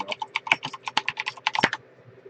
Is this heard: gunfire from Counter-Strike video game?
no